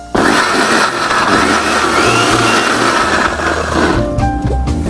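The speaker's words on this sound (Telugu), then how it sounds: "దీన్ని మనం ఇప్పుడు మిక్సీ పట్టుకుందాం." A mixer grinder whirs steadily and loudly while blending chickpea greens with green chilli and coconut, a continuous motor roar running almost the whole time before cutting off near the end.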